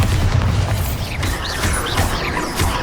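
Bombarda blasting-spell explosions erupt in Hogwarts Legacy combat: several loud, deep booms burst over a continuous broadband roar of battle noise.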